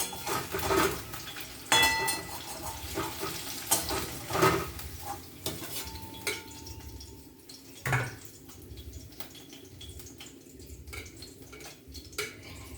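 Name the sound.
ridge gourd frying in fish oil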